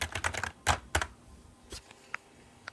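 Typing on a gaming keyboard: a quick burst of clustered key clicks up close, then slower, sparser single keystrokes trailing off.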